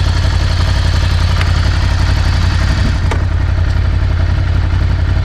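A Ducati Scrambler motorcycle engine idling in first gear, a loud close steady low throb with a fast even pulse and light mechanical clatter over it, no voices.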